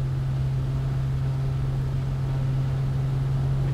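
Aircraft engine in Microsoft Flight during a takeoff roll, a steady, loud drone with a strong sustained low hum and even broadband noise, unchanging throughout with no talking.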